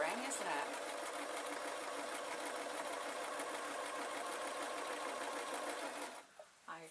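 Sewing machine stitching a fabric travel pillow: a steady, loud mechanical whir running continuously for about six seconds, then stopping abruptly with a couple of small clicks.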